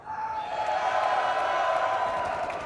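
An arena crowd at an esports match at the Montreal Major cheers steadily, a distant, dense roar of voices and whoops that holds at an even level throughout.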